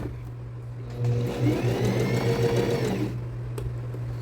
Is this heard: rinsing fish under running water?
no